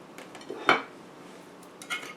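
A utensil cutting into a breakfast pizza in a non-stick spring pan, giving a couple of brief metallic clinks and scrapes against the pan in an otherwise quiet kitchen.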